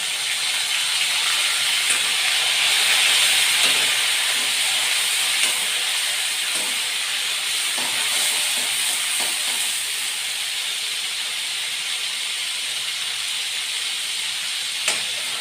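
Steady, loud sizzle of tomato pieces hitting hot oil seasoned with asafoetida, cooking for a garlicky Kathiawadi ridge gourd curry over a village wood-fired stove; a continuous hiss fills the scene without a break.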